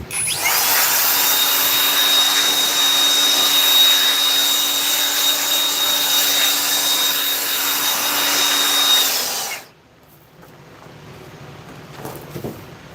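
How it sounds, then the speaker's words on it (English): Small air blower running in a woodworking shop, a loud close steady whooshing whine with a constant tone that cuts off sharply after about nine and a half seconds, leaving quiet room noise. "So I'm using that little blower right there"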